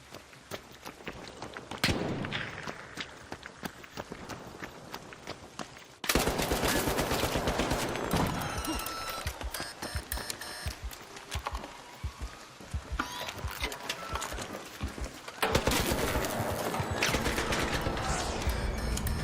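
Rapid bursts of gunfire between players in the video game ARC Raiders, loud and dense, with overlapping volleys and heavy thumps that stop briefly, then resume at full intensity for most of the stretch.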